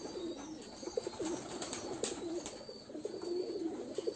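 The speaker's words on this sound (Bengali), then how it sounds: "পানি খাওয়ার লাগে কবুতরে সব ফোটা আরম্ভ করছে" Several pigeons coo repeatedly nearby, soft rolling calls recurring every second or so over a low background hum, with no talk.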